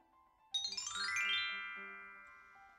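A bright notification bell chime rings out once, a ringing ding-dong that sustains and slowly fades over a quiet background.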